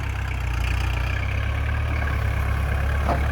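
Farm tractor engine idling and running steadily with a low, continuous rumble, close by and loud, with no talk over it.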